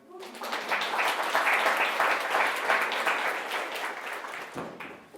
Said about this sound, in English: So yeah, that round of applause for them.